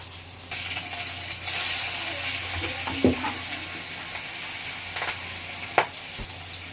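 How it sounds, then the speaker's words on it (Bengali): Potatoes fry together in hot oil for meat and vegetable dishes, a soft, steady sizzle and hiss that swells partway through, with a few quiet knocks of a spoon against the pan, fairly faint overall. "প্রথমে আলুগুলো ভেজে নেব, এখানে মাংসের আলুটাও আমি একসঙ্গেই ভেজে নেবো"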